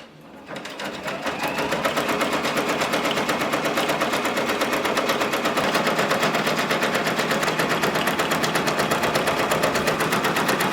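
A Brother Persona embroidery machine stitching a double appliqué on a varsity jacket, its needle hammering in a fast, even, loud rhythm that starts within the first second and runs on without pause.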